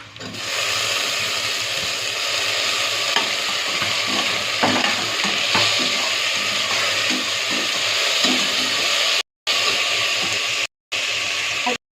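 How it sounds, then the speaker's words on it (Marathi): Chopped tomatoes hit hot chicken gravy masala in a pan, giving a loud continuous sizzle with scattered stirring clinks and scrapes, briefly broken by a few short dropouts near the end. "आता आपला लाल झालाय आता मी टमाटो टाकते"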